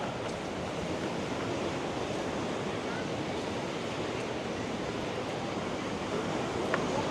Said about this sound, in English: There's a bit of a wind picking up.